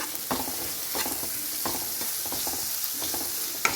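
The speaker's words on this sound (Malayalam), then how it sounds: "അതുകൂടി ഒന്നിട്ട് നമുക്ക് മിക്സ് ചെയ്യാം." Green chilies, ginger-garlic paste and chopped curry leaves sizzle steadily in a pan while a spoon stirs them in repeated scraping strokes, close and clear with no talk.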